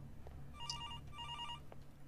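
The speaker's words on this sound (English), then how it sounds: "Oh, it's a phone! Oh, calm down. It's just a phone." A telephone bell rings in the horror video game Araya, two electronic trilling bursts in quick succession over a low ambient drone, clear and moderately loud.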